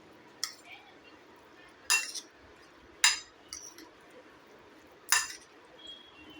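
A spoon clinks against a bowl while curd patty batter is mixed, four or five separate sharp metallic taps spaced a second or so apart over a quiet background.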